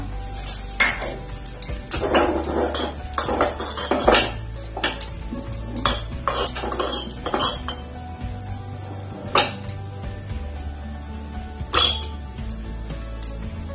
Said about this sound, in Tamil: பனை வச்சு அந்த முந்திரி திராட்சையும் வறுத்து வச்சுக்கலாம்